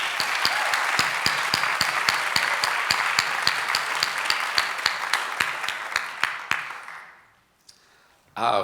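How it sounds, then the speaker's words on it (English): An audience at the SNAP residency awards gives a sustained round of applause with distinct individual claps standing out, tapering off and fading to near silence before a voice resumes at the end. "Let's give her a round of applause"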